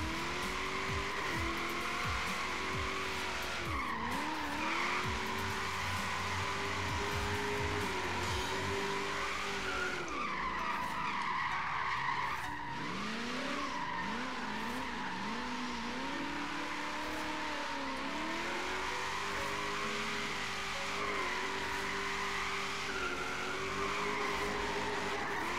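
A Lexus GS 350 F Sport on 20-inch wheels drifts in the racing game Forza Horizon 3. The engine drones and revs without a break, and long wavering tire squeals rise and fall as the car slides repeatedly, with no voices.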